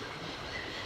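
A train in the adventure game Syberia rumbles steadily as a continuous, even rolling noise with no voices.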